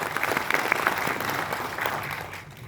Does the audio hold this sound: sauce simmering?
no